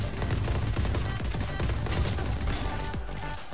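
Dense, rapid gunfire from a video game crackles continuously, loud and close, with no pauses.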